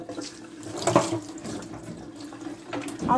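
Tap water runs over salad leaves being washed in a kitchen sink for a grinder salad sandwich, a steady close splashing with brief louder gushes and no speech.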